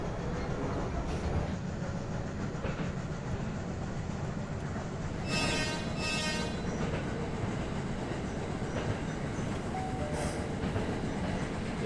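A short two-car Japanese train rolls along the rails in the game Running Train, with a steady loud rumble throughout, rhythmic clacking over the track and a brief horn toot about midway.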